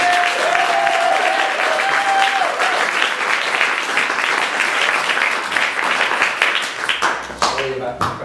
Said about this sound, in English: please, huge round of applause for Mr.